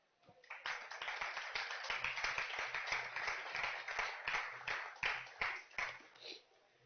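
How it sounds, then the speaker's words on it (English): A round of applause from an audience at a talk, many hands clapping in a sustained, moderately faint stretch that tapers off at the end, with no voices over it. "I think you all deserve a round of applause for all the work you've done so far."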